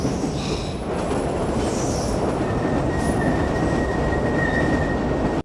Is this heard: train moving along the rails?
yes